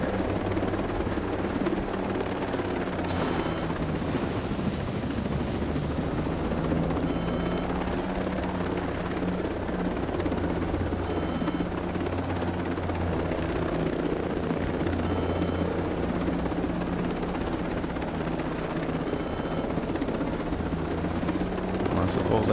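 A loud, steady helicopter rotor in the video game Ghost Recon Breakpoint thrums continuously throughout, a dense mechanical drone with engine whine that never lets up.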